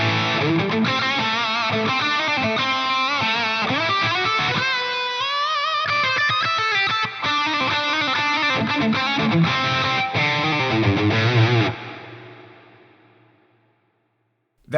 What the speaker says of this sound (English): You could also go through and apply quite an aggressive low cut to the reverb. Start with 400 Hertz.